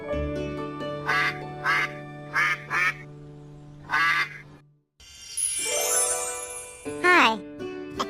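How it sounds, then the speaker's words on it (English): A farm duck quacks in several short, loud bursts, with a steady tone and a child-like voice heard around the calls. "D-U-C-K, duck."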